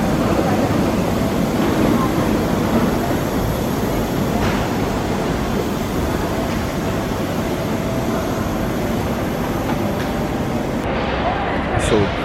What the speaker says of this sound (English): Sorry, it's loud in here, there's trains.